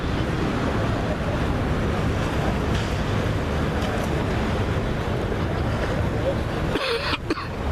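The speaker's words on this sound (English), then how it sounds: "This is the River Seine." Steady water and wind along the River Seine in Paris, a broad continuous wash of waves and gusts with a brief disturbance near the end.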